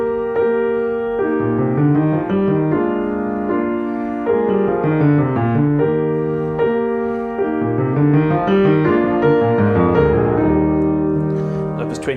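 Solo piano plays a passage from Beethoven's Sonata No. 13, Opus 27 No. 1, with flowing melodic lines over shifting bass notes, close and full, heard alone without voices.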